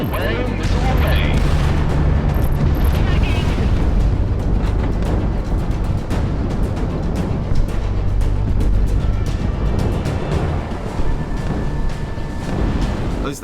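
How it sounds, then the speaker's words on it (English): Missile launch and explosions in the flight combat game Project Wingman, a dense continuous roar of booms and rumbling blasts with a steady jet-engine drone throughout, loud and unbroken, with faint voices mixed underneath. "Missile away, missile away."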